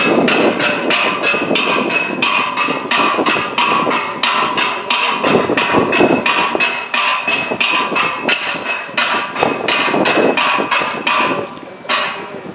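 At a firefighting competition, a hammer strikes over and over in rapid, loud, sharp metallic blows, a dense train of near hits that barely pauses for about twelve seconds.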